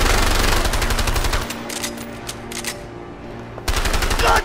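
Rapid automatic gunfire from the video game A Way Out: loud, dense bursts open the clip, give way to a quieter lull with a faint hum, then return loud at the end.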